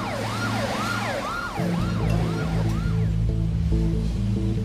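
An ambulance siren wails in a documentary trailer about youth living in refuges, rising and falling repeatedly, then switching to a rapid yelp over a loud, steady low engine rumble.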